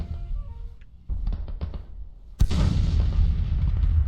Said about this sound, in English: That sounded like my skirmishers maybe found their artillery.